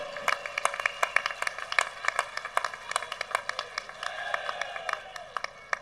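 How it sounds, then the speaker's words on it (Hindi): An audience applauding at a Hindi poetry recital in Bhopal: brisk, continuous clapping from a full hall with sharp individual claps, steady and fairly close throughout. "उस राणा के लिए तालियां कमजोर हैं।"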